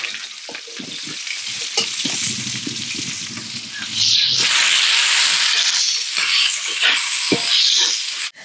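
Chopped onions frying in a pan for chicken biriyani, a close steady sizzle that swells louder midway, with occasional stirring clatter.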